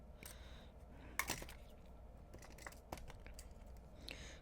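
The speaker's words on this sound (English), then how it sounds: "I'm gonna cut this also a little bit." Wire cutters snip jewelry wire for a wire-wrapped pendant: a few faint, sharp clicks close by, spaced irregularly amid quiet handling noise.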